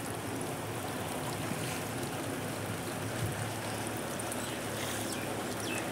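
Steady first rain of the season falls with a continuous broadband hiss and wash, even and moderately loud throughout, with no voices.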